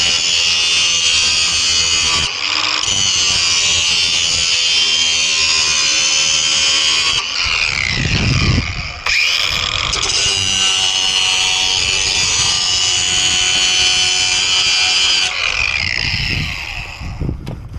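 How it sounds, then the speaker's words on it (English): Craftsman power tool sharpening lawn mower blades, a loud steady high-pitched grinding whine running in long passes, broken by brief pauses and a short low rumble midway, then trailing off at the end. "I'm just going to use this Craftsman thing just to give a quick sharpen."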